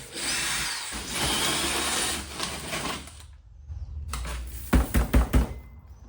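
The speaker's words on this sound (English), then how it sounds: "you can start by drilling a hole that's roughly about 3 inches in diameter" A power drill cutting a roughly 3-inch hole, giving a sustained gritty whine for a few seconds, a short pause, then several quick louder bursts of drilling near the microphone.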